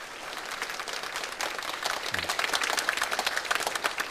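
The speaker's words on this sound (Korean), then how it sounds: "박수 한번 치겠습니다" A church congregation applauds after a pastor's installation ceremony is declared, the clapping building from a scattered start into a full, steady round.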